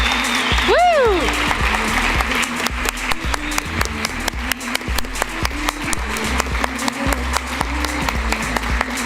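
Sustained crowd clapping with a regular beat, loud and lively, with a whooping voice and cheers rising near the start.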